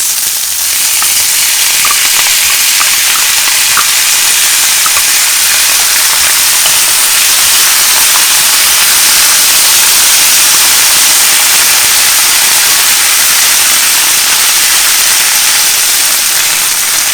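Canned beans, onions, garlic and chopped chilies stew in a pan for a vegan Mexican shakshouka, producing a loud, even, hissing sizzle that holds steady and close throughout with no talk.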